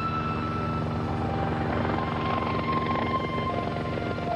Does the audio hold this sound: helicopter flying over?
yes